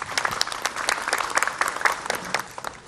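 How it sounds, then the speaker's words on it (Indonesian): A studio audience at an Islamic TV programme claps for Ustadz Maulana, a lively burst of many hands that stays busy and bright before tapering off toward the end. "tepuk tangan Pak Ustadz Maulana dong."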